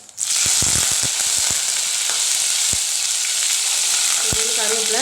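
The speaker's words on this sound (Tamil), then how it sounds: "இப்போ ஒரு அரை ஸ்பூன் சீரகம் போட்டுக்கலாம். சீரகம் போட்டு நல்லா ஃப்ரை பண்ணிக்கங்க." Cumin seeds hit a hot pan and fry with a burst of sharp crackles and pops, then settle into a loud, steady close-up sizzle.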